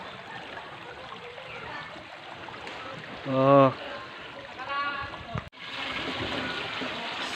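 Water flows and trickles steadily at a jungle resort in Balungao, Pangasinan, a continuous splashing wash with a person briefly speaking over it and a sharp knock near the end.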